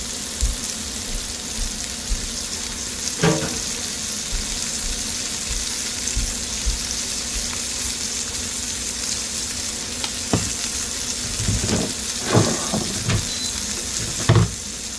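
Food browning in a hot pan sizzles steadily throughout, with occasional utensil clinks and scrapes near the end, before going into an air fryer.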